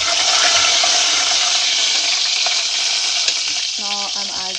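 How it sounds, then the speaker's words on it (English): Seeds and spices frying over a low flame for mithi dal, a loud dense sizzle stirred steadily in the pan, easing slightly toward the end as a brief tonal sound enters; no voices. "Time to stir."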